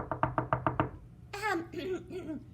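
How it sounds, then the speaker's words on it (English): Six even knocks on a door, close and fairly loud, are followed by excited children's voices and giggling in a storytelling setting. "They knocked on the door."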